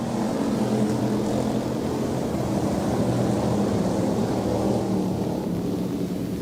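Hobby stock race cars take the green on a dirt speedway, a continuous loud roar of engines droning together with no breaks, filling the whole clip.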